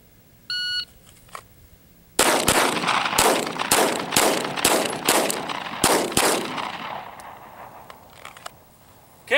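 A Glock 17 Gen 5 MOS pistol fitted with an Apex trigger and Taran Tactical spring kit fires a run after a shot-timer beep: about ten sharp, loud shots in quick rhythm, then quiet.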